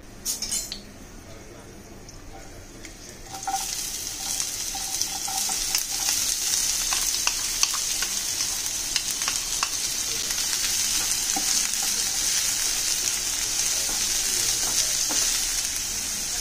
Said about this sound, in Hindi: आता आपण त्यामध्ये तेल घालूया। दोन कांदे मी कापून घेतलेले।